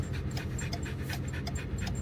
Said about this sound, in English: And Argo is really panting